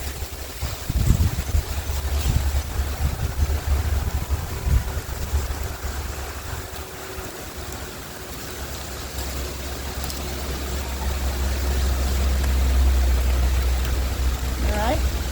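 Cold wind blowing outdoors in a beet garden during harvesting, a low rushing roar that buffets the microphone and swells stronger toward the end, with someone talking over parts of it.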